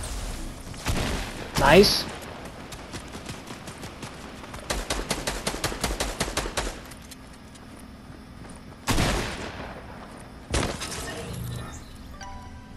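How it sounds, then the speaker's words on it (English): Fortnite gunfire: a rapid burst of automatic shots in the middle, flanked by a few sharp single cracks and glassy shattering impacts, with a voice briefly speaking. "They're shooting you down with the bubble."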